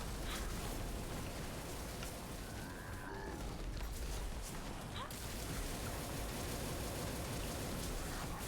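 In a video game, rain falls as a steady, dense hiss that fills the whole stretch, with a faint voice and a brief soft sound partway through.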